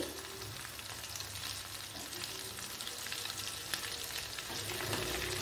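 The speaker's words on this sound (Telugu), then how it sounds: "మనకి మంచి గోల్డెన్ కలర్ వచ్చేంత వరకు ఫ్రై చేసుకోవాలి." Nethallu fish frying in hot oil, a continuous crackling sizzle with occasional pops, quiet and close.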